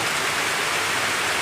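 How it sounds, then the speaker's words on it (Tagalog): Heavy rain pours down steadily in a dense, continuous hiss with no breaks, loud and close throughout, while two people bathe out in the downpour. "Lakas ng ulan, guys."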